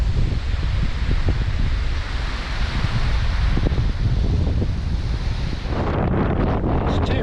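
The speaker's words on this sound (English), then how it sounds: "It's too windy to sit down and enjoy my lunch." Strong wind on an exposed coastal walking route in Britain, loud gusty buffeting against the microphone with rustling, roaring continuously and shifting in force near the end.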